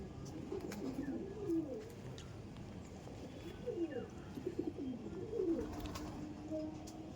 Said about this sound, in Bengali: হ্যাঁ, কালসিরা পায়রা, আন্ধ্রা কালসিরা পায়রা।